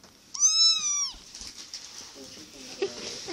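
A kitten lets out one drawn-out, high-pitched meow up close, followed by softer, indistinct household sounds.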